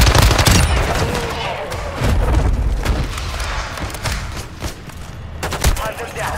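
Gunfire from Call of Duty Warzone 2.0 during a Haunting Event boss fight: dense bursts of automatic fire and booming impacts run throughout, loud and continuous, with game voices calling out over the shooting.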